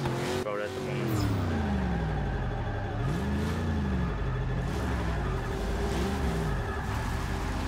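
A Plymouth Cuda's engine in Forza Motorsport 6 revs up and drops back repeatedly as it climbs through the gears, rising and falling pitch sweeps loud and close, with a person speaking at times over it.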